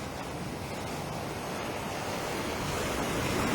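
Waves wash onto the beach at White Sands and Dover Beach on an early morning, a continuous broad roar of surf with some wind buffeting, swelling slightly toward the end, with no voices.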